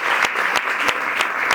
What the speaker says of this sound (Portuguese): But put in clap of hands for her.